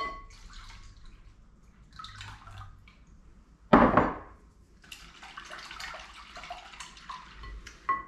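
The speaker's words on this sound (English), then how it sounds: "And I'm gonna add 4 cups of milk." Four cups of milk poured into a mixing bowl with beaten eggs for bread pudding: light trickling and splashing, a sharp clunk of a container near the middle, then a steadier liquid pour to the end.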